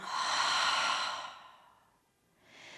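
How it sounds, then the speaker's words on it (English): A long, deep exhale through the nose during a beginner yoga breathing pause, a steady airy rush that swells and fades over two seconds before a softer new breath begins, close and alone. "Inhale through the nostrils, deep, deep inhalation. Exhale, release, let it go."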